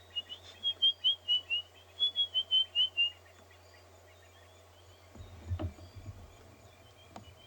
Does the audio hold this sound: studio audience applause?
no